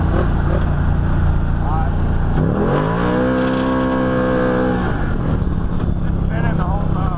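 Engine of an old Ford Maverick revving hard as it is floored, a steady rising drone with harmonics climbing then falling off, loud and close, with a brief spoken word near the start.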